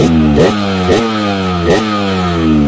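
A Kawasaki KLX dirt motorcycle revs repeatedly, its single-cylinder engine rising and falling in pitch with sharp throttle blips roughly every second, loud and close with no talk.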